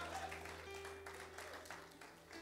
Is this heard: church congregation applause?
yes